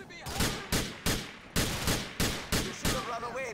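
Loud single gunshots in GTA IV ring out in a steady volley of about eight evenly spaced blasts, each with a short decaying tail, under a brief bit of speech near the end.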